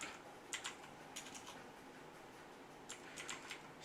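Typing on a computer keyboard at a terminal, heard as two short bursts of rapid, light key clicks separated by a quiet pause, fairly close and alone.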